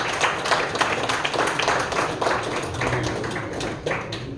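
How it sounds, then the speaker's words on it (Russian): A concert audience in a Russian cultural house in Chisinau applauds a pianist and vocalist as she is introduced, dense close clapping that continues steadily without pause. "Встречаем ее аплодисментами."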